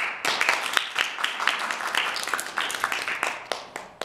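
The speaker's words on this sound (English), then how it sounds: "let's welcome or thank them one last time with a big round of applause" An audience gives a big round of applause to thank panelists after a discussion, with dense, continuous clapping from many people for several seconds.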